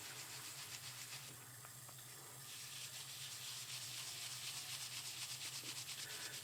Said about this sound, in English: just give it a good scrubbing